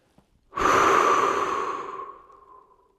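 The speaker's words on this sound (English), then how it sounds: "to take a deep breath." A single deep breath, drawn in and let out slowly in a long, close, breathy sigh that fades away with no talking.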